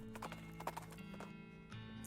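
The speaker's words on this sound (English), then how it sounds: "The horse reluctantly agrees and trots off, leaving the binoculars behind." Horse trotting away in the video game West of Loathing: a few light clip-clop hoof beats over a steady hum of game music, faint and without talk.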